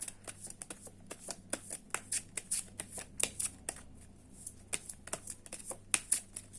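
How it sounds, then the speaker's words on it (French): Tarot cards being shuffled and drawn, a close, quiet run of crisp riffling snaps and flicks in an irregular rhythm, heard alone without talking. "Je vais tirer 2 cartes et vous allez choisir le tas de gauche ou le tas de droite."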